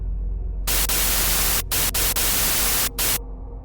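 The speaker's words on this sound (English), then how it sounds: "a harsh static noise filled the air, like the sound from the radio, but amplified" Harsh amplified radio static bursts in over a low mains hum, a loud hissing wash broken by several brief dropouts before cutting back to the hum.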